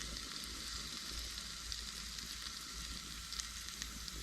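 Steak fat sears in a pan at a campsite with a constant, even sizzle, close and unbroken throughout, with no voices over it.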